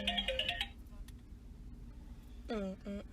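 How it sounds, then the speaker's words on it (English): A phone ringtone plays a short melodic burst, stops, then chimes again in repeated tones, heard under and between a person talking. "So my bad, y'all. My phone went off."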